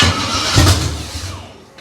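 Engine of an abandoned 1968 Camaro cranking and catching: a loud, rough rumble with a brief surge before settling into an uneven, sputtering idle that fades slightly, close by with no talking.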